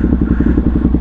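A motorcycle engine thrums in a steady low pulsing beat, loud and close as if heard from the rider's helmet while riding.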